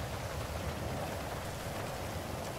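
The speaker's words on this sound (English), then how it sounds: "because it's raining out here" Rain falls steadily outdoors in GTA 5, a dense, even hiss of drops at moderate volume with no other distinct sounds.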